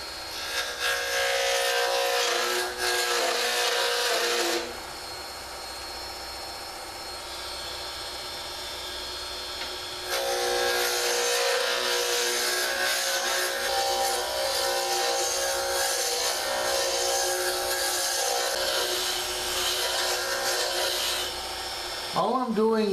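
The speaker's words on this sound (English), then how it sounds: "All I'm doing with my roughing gouge is trying to get a general shape." A roughing gouge cuts a cherry burl pen blank spinning on a wood lathe, giving a loud, continuous rasping scrape over a steady motor hum, with a brief lighter stretch midway and a slight rise near the end.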